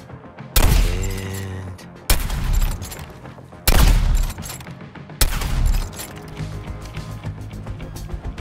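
Heavy gunfire in the Suicide Squad Kill the Justice League video game, four loud bursts of shots separated by brief pauses, each ringing out with mechanical clatter, with a faint voice briefly present.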